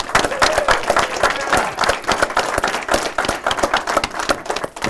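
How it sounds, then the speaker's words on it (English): A crowd applauds steadily, dense clapping filling the whole stretch at a loud, even level without pause. "Let's give him a big round of applause."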